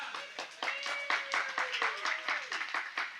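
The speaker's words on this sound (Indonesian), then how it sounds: "Beri aplaus bu, beri aplaus" Audience at a Maulid Nabi gathering in Tegal clapping steadily in quick rhythmic claps, moderately close, with a voice speaking over it.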